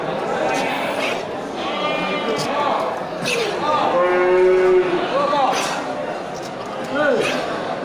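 Several goats bleat in wavering, nasal cries that overlap one another, with busy background chatter throughout.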